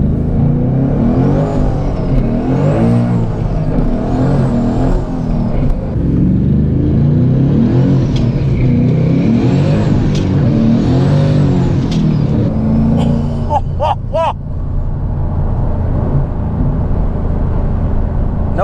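A 700hp Ford Mustang GT V8 engine revs repeatedly in rising and falling surges, loud and close, then settles into a low idle with a few sharp clicks.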